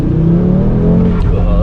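A tuned 2019 Audi RS3 with a factory exhaust pulls hard in second gear, a loud steady engine note that climbs in pitch and fills the whole stretch.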